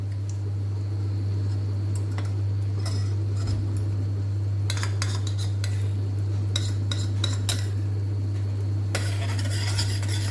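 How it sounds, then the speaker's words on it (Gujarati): Spoon stirring a masala potato curry with added yogurt in a pan, producing intermittent bursts of scraping and clinking against the metal between quieter pauses, over a soft sizzle and a constant low hum. "હલાવી લઈશું બરાબર."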